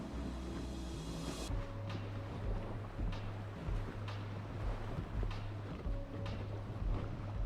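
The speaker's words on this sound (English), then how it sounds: "the only way to get there is via kayak through this flooded creek system" A kayak moving through a flooded creek, with continuous water wash and a low rumbling hum beneath, plus a few soft knocks or splashes, steady and close throughout.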